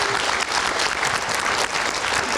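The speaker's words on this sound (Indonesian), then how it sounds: "tepuk tangan dulu dong" Studio audience applause in a political talk show, steady dense clapping throughout at full level, with no voices above it.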